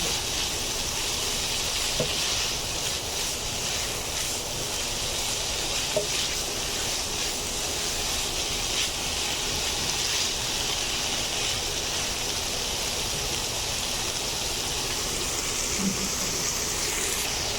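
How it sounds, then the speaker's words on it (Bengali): Vegetables for a chicken mayo roll softening in a hot pan, giving a loud, dense, continuous hiss of frying that stays steady throughout, close by, with a few faint knocks of a utensil and no talking. "আমি এখন কিছুক্ষণ ভেজে নেব যতক্ষণ পর্যন্ত একটু সবজিগুলো মোলায়েম না হয়ে আসে"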